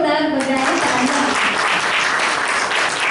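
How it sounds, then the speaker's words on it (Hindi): Loud applause from an audience gathered at a Brahma Kumaris spiritual event, the dense clapping swelling up under a fading voice and then continuing steadily on its own. "तो हम सब एक बार जोरदार बजाएं तालियां,"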